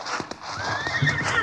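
Horses in an old-time Western radio drama clip-clop along with a whinny mixed in, hoofbeats close and fairly loud amid busy background noise, without clear talk.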